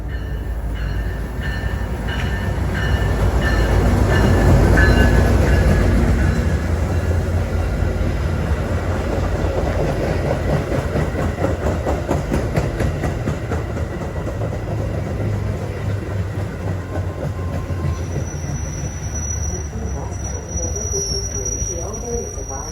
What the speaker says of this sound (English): UP West train number 51 to La Fox is now arriving